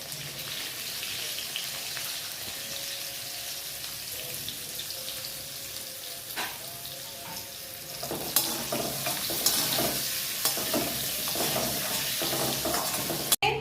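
Dry red chillies and small bay leaves sizzling in hot oil for a vegetarian aloo dum, a continuous crackling fry that grows busier and louder partway through, with occasional sharp pops and no talk.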